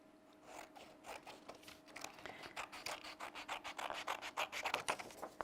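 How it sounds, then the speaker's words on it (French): Cardboard being cut for a kamishibai box, a close, dry run of crunching, scratchy snips that start slowly and grow louder and more rapid toward the end. "J'ai 2 cartons différents et on les découpe"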